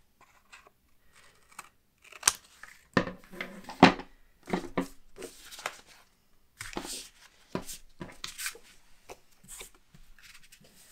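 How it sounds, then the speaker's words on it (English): Scissors clip the corners of paper for a scrapbook mini album, giving a series of sharp, quiet snips and small handling taps spaced irregularly across a near-silent background. "Now I'm going to clip the corners here."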